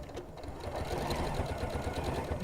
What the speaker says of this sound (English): But luckily on your sewing machine, you can go as fast as you want.